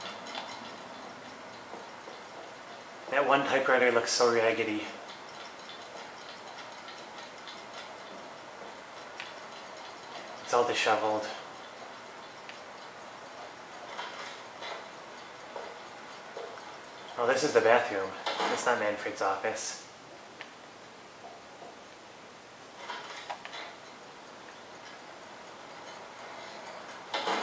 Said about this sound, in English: Look how many clocks this guy Manfred has.